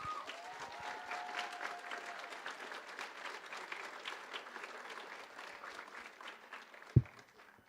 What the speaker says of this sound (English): please give all of our staff and all of our parents a huge round of applause